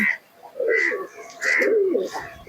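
Teddy pigeons in a loft coo loudly and close by in repeated rising-and-falling phrases, three or four bursts with short pauses between them.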